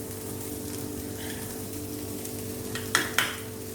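Cooked white peas sundal, salted and dusted with sundal powder, is tossed together in a vessel. A steady low background hum carries through, and two quick utensil scrapes or clinks come near the end. No one speaks.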